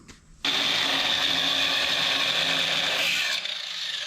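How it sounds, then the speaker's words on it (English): An angle grinder bites into welds on the frame of a 1966 Chevrolet dually truck, starting abruptly after a brief quiet moment and holding a loud, steady, harsh high-pitched whine with no talk until it eases slightly near the end. "I'll come through here and kind of grind at these welds, see if I can't get that to separate from the frame."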